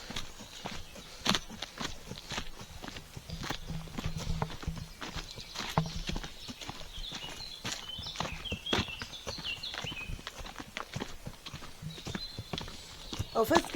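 Horse hooves clip-clop at a steady walk along a ride outdoors, with a few faint bird calls in the background and people talking over the footsteps throughout.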